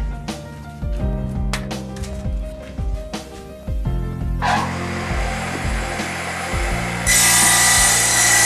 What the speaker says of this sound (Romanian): Mă duc la circular și le fac toate părțile egale.